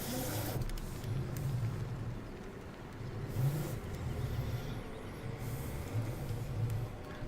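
A tractor engine in Farming Simulator 17 drones low and steady, swelling and easing as it pulls a trailer, with a quiet hum in the background and no speech.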